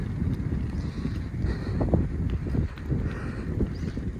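Wind rushes steadily across the microphone while cycling through a rural village in Japan, a continuous low, blustery roar with gusts swelling and easing throughout.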